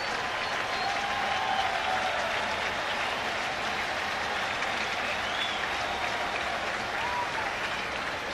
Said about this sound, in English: It's a nervous clap.